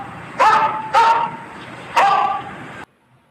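Three sharp dog barks, the first two close together and the third after a short pause, loud and near, then silence.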